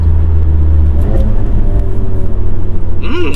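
A tuned VW Mk7 Golf GTI with an EQT Stage 2 tune downshifts on the road, its engine rumble rising in a brief rev burst near the end of a steady interior drone.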